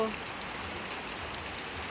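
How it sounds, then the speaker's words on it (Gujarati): Heavy rain pours down outside a house facing a road, a steady, dense hiss that fills the whole moment without letup and without any voices. "સામે દેખાય નહીં એવો વરસાદ પડે છે"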